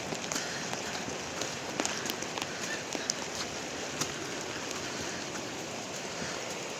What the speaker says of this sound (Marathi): पाऊस आलेला आहे मोठा